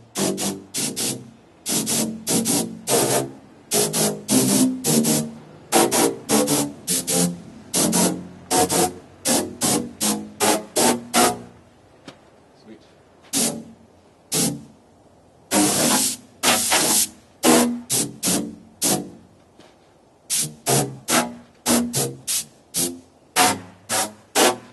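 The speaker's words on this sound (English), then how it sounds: "I was cleaning it off with compressed air, and I figured I'd play around with that" Repeated bursts of compressed air spraying into a tube, a long run of short, loud blasts broken by brief pauses and a few longer sustained hisses, close by and with no talking.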